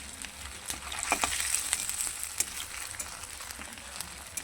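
Vegetables hitting a hot, sizzling tempering in a pan for festival khichuri give a steady close frying hiss with a few sharper crackles and spits, and no voices.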